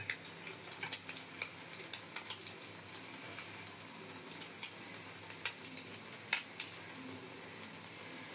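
Fish chop fritters fry in hot oil on a gas stove with a soft, steady sizzle, broken by scattered crackles and pops, faint and close, with no talking.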